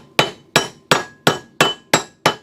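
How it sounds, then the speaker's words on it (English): A hammer taps a bearing into a QUADRACER front hub: seven sharp, evenly spaced metallic strikes, each ringing briefly, close and loud with no talk. "Now to tap it into place, I usually just turn the hammer first"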